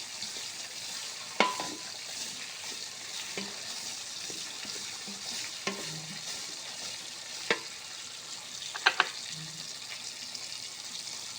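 Chalta (elephant apple) pieces fry in a pan with a soft, steady sizzle, broken by a few louder scrapes and clinks as they are stirred.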